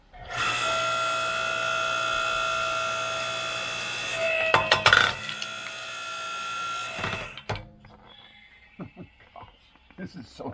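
A log splitter at a Michigan wood yard working through wood, a steady loud mechanical whine with cracking and creaking as a log gives way, then quieter knocks and shuffling as the run winds down.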